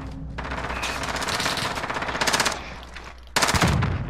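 Rapid automatic gunfire from a video game shootout between two brothers, dense bursts of shots running almost continuously, then a brief lull before another loud burst near the end.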